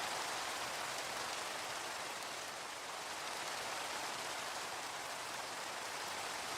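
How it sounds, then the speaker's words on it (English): Steady rain falling at night in a video game, a constant soft hiss of drops with no breaks or talking, quiet and even throughout. "Well, it's night and it's raining."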